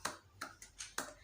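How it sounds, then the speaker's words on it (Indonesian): A class of fourth-grade pupils doing a tepuk semangat cheer in a classroom, four or five short, sharp clap bursts in a loose rhythm, moderately close and fairly quiet. "Ibu minta kalian semuanya untuk tepuk semangat agar fokus semuanya"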